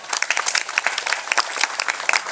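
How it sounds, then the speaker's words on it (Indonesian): Scattered applause from an audience at an interfaith religious talk in Indonesia, a fairly sparse patter of hand claps with uneven rhythm, steady and moderately close, no voices over it. "Tepuk tangan lu Bapak Ibu."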